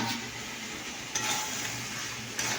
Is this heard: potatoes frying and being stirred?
yes